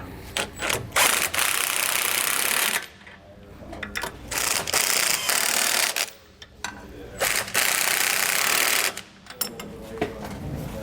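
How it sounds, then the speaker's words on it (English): Socket wrench tightening bushing clamp hardware on a 2020 Fleetwood Bounder motorhome, rapid ratcheting bursts in several runs separated by short pauses, close and fairly loud. "For our bushing clamps, we're going to use a 3/4 socket and wrench."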